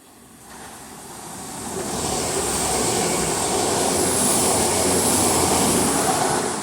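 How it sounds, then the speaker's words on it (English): A pair of Transport for Wales Class 197 diesel trains running from Llandudno to Manchester Airport pass through Gatley, a rising roar of engines and wheels that builds over the first two seconds and then holds loud and steady, with no voices. "The next train to be coming through will be a pairing of Transport for Wales Class 197s running from Llandudno to Manchester Airport."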